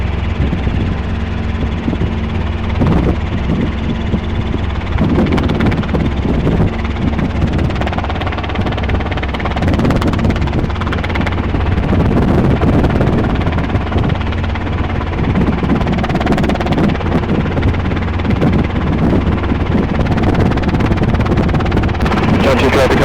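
A Robinson R22 helicopter in flight fills the cabin with a constant loud engine drone and rotor thrum, unbroken for the whole stretch, with radio chatter faintly mixed in.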